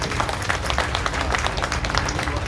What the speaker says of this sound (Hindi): इसलिए जरा जोरदार तालियां मुख्यमंत्री जी को।